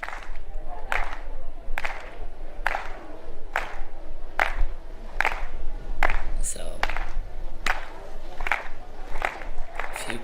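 Rhythmic crowd clapping at an athletics meeting in Lisbon urges a long jumper down the runway, steady claps about twice a second over a broad stadium murmur, with a voice talking underneath.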